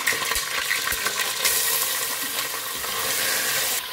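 Ginger garlic paste and chili paste fry in a pan over low flame, a steady bright sizzle with a few soft stirring knocks, close and even, no voices.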